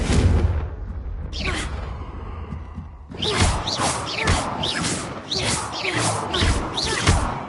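Spell impacts from Confringo and Incendio blasts in Hogwarts Legacy: a string of sharp whooshing bursts and crackling booms, fired in quick succession and close by, loudest through the second half.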